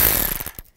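A ratchet drives a 10mm socket on a fastener inside a 2005-2015 Nissan Xterra door during window regulator removal, giving a short burst of rapid close clicking that slows and stops in under a second.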